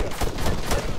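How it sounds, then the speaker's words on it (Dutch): Gunfire in the military shooter Arma 3, with shots aimed at the player: a steady, dense crackle of rifle fire at moderate distance runs continuously for the whole short moment with no talking. "hij schiet op mij"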